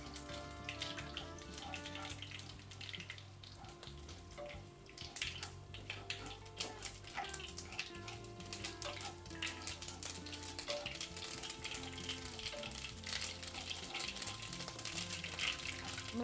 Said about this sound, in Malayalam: നമ്മുടെ കടുകെല്ലാം പൊട്ടി.